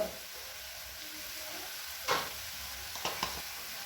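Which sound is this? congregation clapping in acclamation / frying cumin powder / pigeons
frying cumin powder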